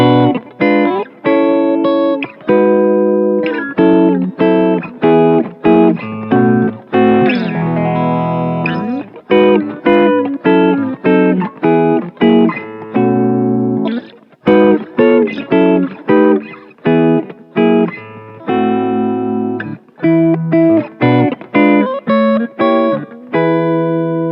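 An electric guitar plays a gospel reharmonization of a bridge in which all levels are combined. Rich sustained chords and quick melodic runs are coloured by chorus and effects, and the playing is close, loud and continuous with no talking.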